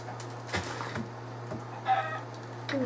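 A Minecraft chicken clucks in short, separate bursts, a few soft blips spread over a couple of seconds against a steady low game hum, with no voices.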